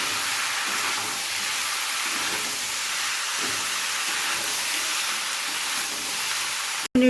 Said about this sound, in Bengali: সবজিগুলো দিয়ে এখন আমি ভাজা ভাজা করব।